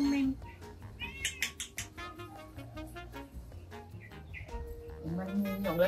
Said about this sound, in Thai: อันนี้ก็จะเป็นพวกแมวที่เก็บมาเลี้ยงทั้งหมดเลย